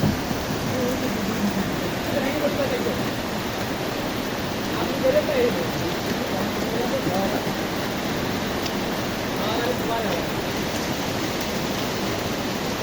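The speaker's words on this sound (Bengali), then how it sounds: "বৃষ্টি হচ্ছে প্রচুর, বৃষ্টি হচ্ছে আমাদের এলাকায়" Heavy rain falls in a dense, constant wash of hiss that stays even throughout, with a few faint background noises underneath.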